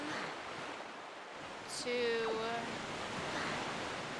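A waterfall in a Zelda game rushes as a steady broadband wash of water noise, with brief chiming game tones layered over it midway and a short spoken word.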